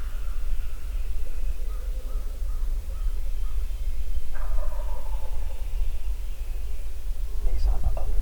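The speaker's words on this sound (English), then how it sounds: "the one that's gobbling over there" A wild turkey gobbles from a distant hillside ridge in Tennessee woods during the spring opening weekend, several faint, rattling bursts over steady wind and outdoor noise.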